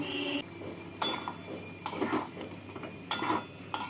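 A spoon stirs posto paste with bitter gourd and potatoes in a pan on a low flame after water is added. Metallic scrapes and clinks come in a few separate bursts over a soft background hiss.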